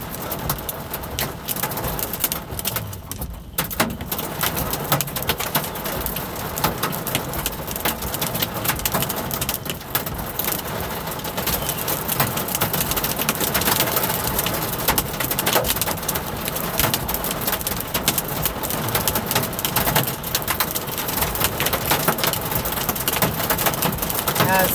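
Hail, some earlier stones marble sized, drums steadily on a vehicle during a storm, a dense continuous rattle of hits mixed with rain, loud and close throughout with no pause.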